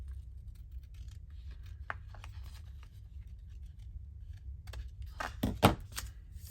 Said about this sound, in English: Oh, I've got to trim a bit more.